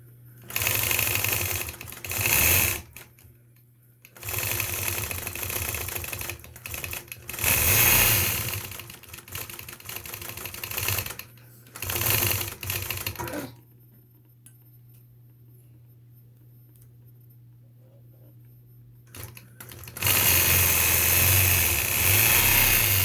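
A sewing machine runs in long stitching bursts as a boy learns to machine quilt, loud and steady, stopping for a quiet pause midway before starting up again; no talking.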